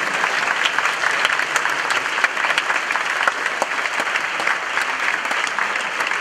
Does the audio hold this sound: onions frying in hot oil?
no